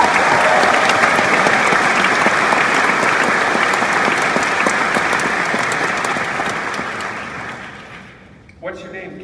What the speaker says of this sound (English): Give this guy a round of applause, everybody.